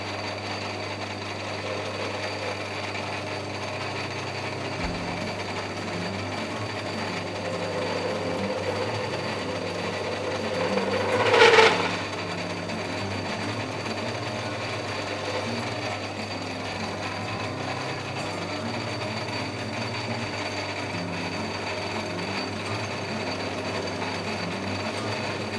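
A lathe takes a slow hand-fed machining pass on a classic Mini wheel nut, a steady low mechanical hum and faint cutting whir running throughout, with one brief louder scraping swell midway.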